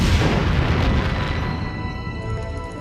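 A Star Trek ship's phaser strike explodes against an asteroid in space, a heavy rumbling boom that starts loud and slowly fades into a lingering roar.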